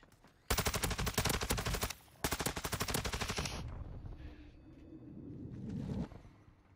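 Gunfire in Call of Duty DMZ: two loud, rapid automatic bursts, the first about a second and a half, the second after a short gap, then a fading rumble with faint background game noise and no talk.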